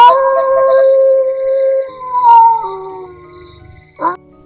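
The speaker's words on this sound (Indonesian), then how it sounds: "Panjang gitu lolongan anjingnya." A dog gives a loud, close howl, a long drawn-out tone that slides downward and tapers off, followed by a brief, sharp yelp.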